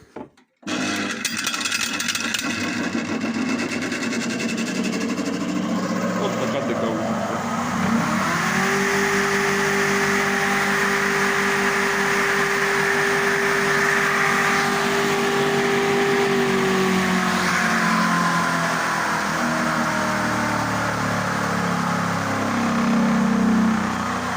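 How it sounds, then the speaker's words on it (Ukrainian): A homemade grain crusher mill starts up with a surge and then runs steadily under a loud, continuous motor drone that holds for the rest of the stretch, with no talking. "Зараз запустимо, покажу, як запускається вона."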